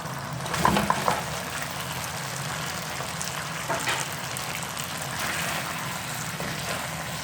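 Chicken lollipops hit a hot glaze in the pan and give a loud initial sizzle with some clattering. A steady frying hiss follows, with occasional stirring scrapes and no voices.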